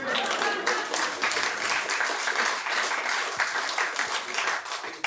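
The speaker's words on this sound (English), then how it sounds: "Keep clapping, because I'm gonna keep drinking." A comedy club audience claps and cheers loudly and continuously, a dense close wash of applause that sustains for several seconds before tapering slightly at the end.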